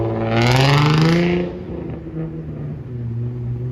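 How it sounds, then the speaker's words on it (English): A Mercedes-Benz car races and accelerates, its engine note rising loudly and sweeping upward in pitch before settling into a steady, slightly quieter drone. "That's a friend of mine racing this car."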